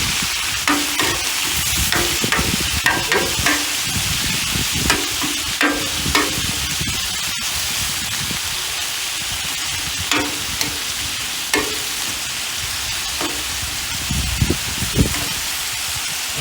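Skirt steak searing on a Blackstone flat-top griddle, a loud continuous close-up sizzle and hiss with occasional scrapes and taps of a spatula on the metal surface.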